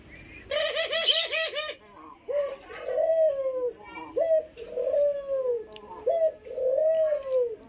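Caged doves cooing loudly and repeatedly, a run of rapid chirps at the start followed by several long, rising-and-falling coos close by.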